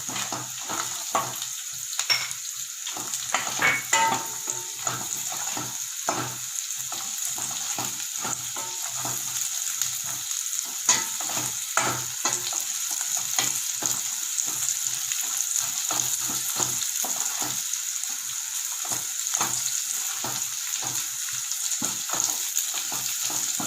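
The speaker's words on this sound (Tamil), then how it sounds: "பாருங்க முந்திரி பருப்பும் வதங்கிடுச்சு, பூண்டும் வதங்கிடுச்சு." Garlic and cashew nuts fry in hot oil in a pan, giving a steady, close crackling sizzle broken by occasional stirring clinks and scrapes.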